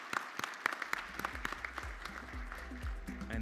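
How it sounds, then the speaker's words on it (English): Audience applause for panelists at the Connecting the World from the Skies Global Forum 2024, a dense, steady clatter of many hands filling the hall, with faint low thumps and a voice murmuring underneath. "I think our excellent panelists today deserve a big round of applause."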